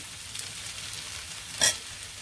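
Masala frying on the flame for achari paneer, a steady soft sizzle and hiss with a single sharp crackle or spatter standing out near the end, close and alone without speech.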